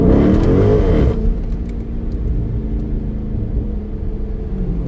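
A Dodge Charger Daytona 392 accelerates hard on a cold -9 degree morning, a loud rising engine roar that cuts back after about a second to a lower steady rumble and whir.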